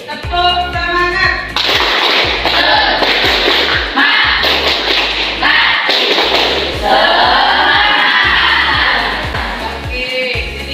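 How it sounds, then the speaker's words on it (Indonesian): Students in a school classroom perform a rhythmic 'tepuk semangat' clapping chant, loud patterned claps and thumps in quick bursts interlaced with voices chanting together, running continuously for about ten seconds. "kita melakukan tepuk semangat 2 kali"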